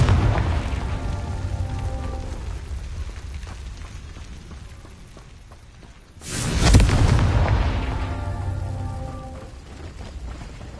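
Spell explosions in the Hogwarts Legacy video game give a dense, rumbling roar with a sharp boom midway that swells and fades back into a sustained crackling wash.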